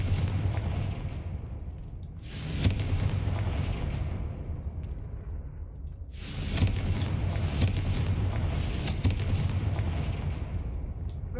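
Confringo fire spell bursts in Hogwarts Legacy, heavy booming blasts with sharp cracks, two big onsets several seconds apart over a constant rumbling game soundscape.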